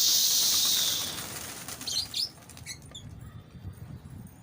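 A Kala Sherazi pigeon beats its wings on takeoff, a loud close burst of flapping at the start that fades into fainter, scattered wingbeats and rustling as the bird flies off.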